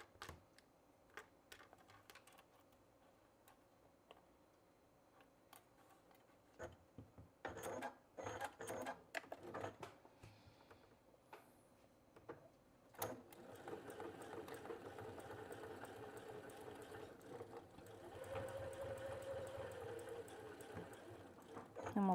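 Sewing machine stitching a chapstick clip holder for a purse zipper, first with short stop-start bursts and clicks, then a steady, continuous run of stitching, close and fairly quiet.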